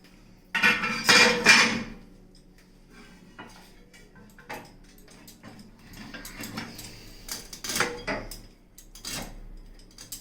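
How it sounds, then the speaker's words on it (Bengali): Rohu fish being chopped into small pieces with a blunt bonti blade, heavy chopping thuds and scraping clatter, loud at first then a series of duller knocks and scrapes, no voices. "এবার এগুলোকে কেটে ছোট ছোট করে পিস করে নেব।"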